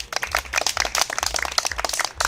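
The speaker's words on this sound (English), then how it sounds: "Let's give a round of applause to Zbigniew." A small crowd claps for a workshop presenter being called to the stage at a Toastmasters summer conference, a dense patter of close, moderately loud hand claps lasting a couple of seconds.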